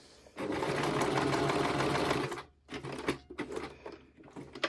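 A sewing machine stitches through paper in one steady, loud run of about two seconds, then stops and restarts in short bursts with small handling noises between them.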